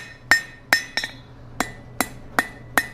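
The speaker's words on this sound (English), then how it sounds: "Bring it to the anvil. Just work on hammering that flat." Hot steel hammered flat on a blacksmith's anvil while shaping a campfire fire poker: sharp ringing metallic strikes in an irregular rhythm, about seven blows with a quick double hit, close and loud with no talk.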